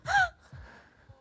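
A sharp, breathy gasp from a person's tic bursts out near and clear, followed by a few softer low breaths and faint rustles in a quiet classroom-like setting.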